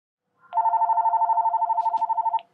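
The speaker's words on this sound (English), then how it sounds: "Nope, phone call." A telephone bell ringing in one continuous burst of rapid, even pulses lasting about two seconds, close and clear against near silence.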